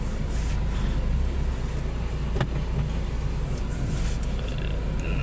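A Toyota Etios, one with a no-start fault under repair, rolls slowly forward, giving a steady low engine and road rumble close by with no talk.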